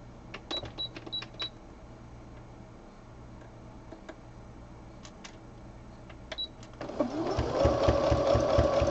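A sewing machine stitches fabric: faint clicks and handling sounds come first, then the motor starts up and runs steadily, with a close, rapid mechanical stitching rhythm until the end.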